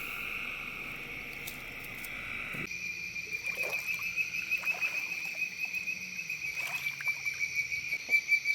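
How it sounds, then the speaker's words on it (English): Bird-voiced tree frogs call in a coastal forest setting, giving repeated pulsing chirps amid a steady high insect drone, moderately distant and growing more rhythmic. "So these frogs calling here are bird voice tree frogs."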